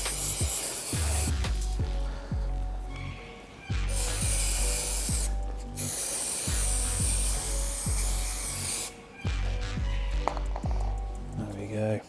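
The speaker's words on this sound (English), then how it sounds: "I'm just going to spray this one also." Bursts of an aerosol spray hiss in several long passes while replacing a Stadiummax Superdry sponge, separated by short pauses, close by with faint handling noises underneath.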